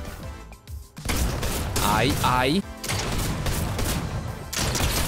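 Gunfire in the video game Fortnite, a rapid burst of loud shots with a crash, heard over a man's short exclamations and continuous game noise.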